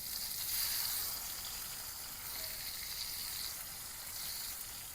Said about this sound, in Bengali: পেঁয়াজটাকে জাস্ট একটু ভাজা ভাজা করে নেব।